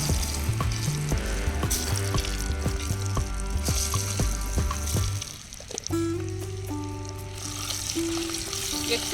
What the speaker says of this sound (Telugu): ఎగ్స్ కొంచెం ఫ్రై చేసుకుందాం